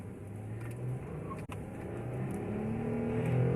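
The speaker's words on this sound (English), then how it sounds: "first takeoff with the pedal commander in sport mode" A car fitted with a Pedal Commander throttle controller set to sport mode pulls away hard from a stop, its engine note steady and rising under a continuous road and motor drone, close and fairly loud.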